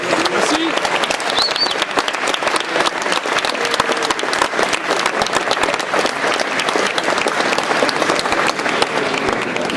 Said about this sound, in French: Vous pouvez les applaudir, c'est eux qui font les Utopiales.